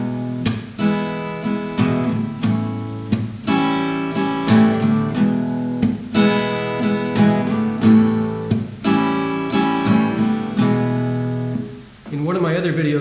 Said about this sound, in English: So here's the strum.